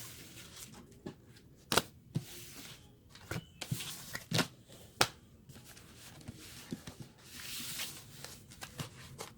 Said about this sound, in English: We'll give these a quick shuffle again.